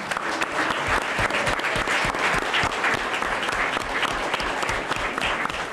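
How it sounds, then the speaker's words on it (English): Sustained audience applause at a local sports event, a dense, steady wash of many hands clapping from a large crowd, loud and unbroken throughout, with no talk over it. "Big round of applause."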